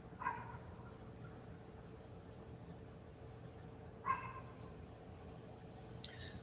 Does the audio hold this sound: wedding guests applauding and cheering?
no